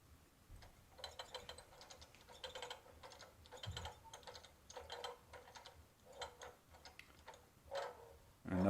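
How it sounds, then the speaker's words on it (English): A handbrake being applied on a Roco model locomotive's sound decoder, heard as a faint run of small mechanical clicks and ratcheting ticks that ends in a louder final clunk. "And that's the sound of the handbrake being applied"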